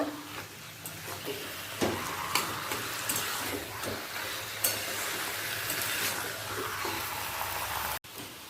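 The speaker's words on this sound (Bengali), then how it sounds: "এবার গ্যাসের ফ্লেমটাকে বাড়িয়ে দিয়ে ভালো করে মিশিয়ে নেব" Taro leaves (kochu shak) being stirred in a pan over a raised gas flame, a soft continuous sizzle with occasional scraping knocks of the spatula, fairly quiet and steady.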